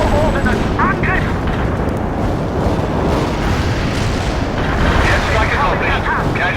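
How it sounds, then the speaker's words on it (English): Heavy artillery barrage in the real-time strategy game World in Conflict, a loud continuous rumble of overlapping blasts and booms filling the whole stretch, with a voice speaking over it. "Heavy artillery firing for that."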